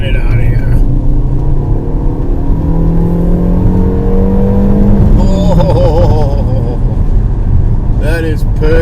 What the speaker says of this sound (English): this actually changes the whole note to the engine